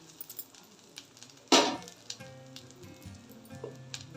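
A sandwich sizzles as it is laid into melted butter in a pan, with a sudden bright burst of frying that settles into a low, steady crackle alongside small kitchen clinks.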